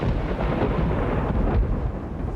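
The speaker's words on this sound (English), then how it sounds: "Every time I hear the thunder crash" A loud, deep crash of thunder in the Swiss Alps rolling on for a few seconds, a heavy rumbling roar with no voices.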